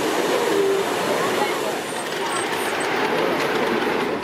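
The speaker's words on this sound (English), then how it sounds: "Here's a Freightliner Class 66 diesel." A Freightliner Class 66 diesel locomotive passes on a railway as a steady, loud rumbling roar of wheels and engine that holds throughout at close range.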